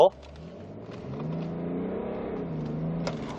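A six-cylinder diesel luxury sedan with four-wheel drive accelerates from inside the cabin, its engine drone rising smoothly and steadily, with a person speaking over it.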